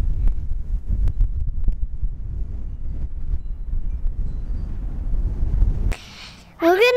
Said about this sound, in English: Gonna get blown away in the wind?